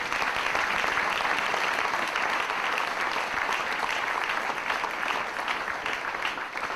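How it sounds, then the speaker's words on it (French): A church congregation applauds steadily and densely, a sustained wash of many hands clapping at close range for the whole stretch with no voices standing out. "On acclame la parole de Dieu."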